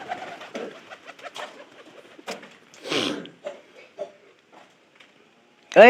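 Pigeons coo in soft, intermittent bursts nearby, with a voice talking in between.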